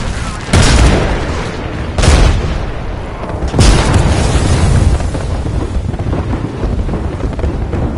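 Grenade blasts in a first-person shooter game, three heavy booming explosions about one and a half seconds apart, loud and close, each followed by a rumbling tail.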